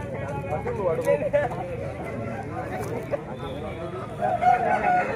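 Roosters crow at a busy chicken market, their calls rising over a constant din of crowd chatter and clucking birds, with people talking close by throughout.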